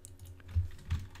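Two soft keystrokes on a computer keyboard, close and fairly quiet, about a third of a second apart over a low background hum.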